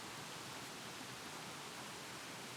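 Mineral water pouring steadily out of an old stone bath pool, a continuous, even hiss of flowing water, soft and uniform with no voices.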